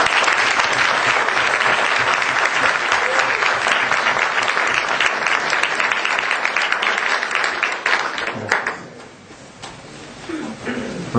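Sustained, dense audience applause at a school debate tournament, loud and steady for about eight seconds before thinning out and fading to scattered claps.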